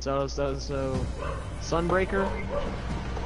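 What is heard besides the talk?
dog barking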